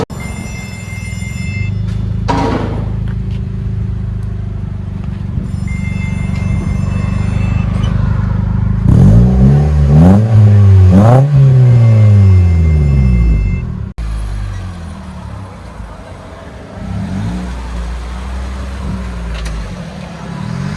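Close-up idle from a 2009 Mitsubishi Lancer four-cylinder running a stainless steel DTM can muffler in place of the stock one, broken by one loud, sharp rev that climbs and drops back before the steady burble returns.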